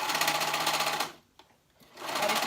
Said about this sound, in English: I'm going to do it on my serger because that's just what I prefer.